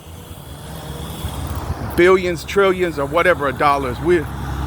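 Steady road traffic rumbles in the background while a person talks over it at close range.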